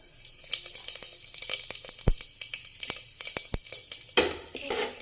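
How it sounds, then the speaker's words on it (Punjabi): Cumin seeds sizzling in hot mustard oil: a steady frying crackle broken by sharp clinks of a stirring spoon against the pan, with a louder burst of sizzle near the end and no talking. "ਤੇਲ ਆਪਣਾ ਗਰਮ ਹੋ ਗਿਆ ਹੁਣ ਆਪਾਂ ਇਹਦੇ ਵਿੱਚ ਪਾਵਾਂਗੇ ਜੀਰਾ"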